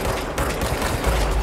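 Sustained rapid gunfire from the video game Control, loud and dense, a continuous burst of overlapping shots filling the moment with no clear gaps.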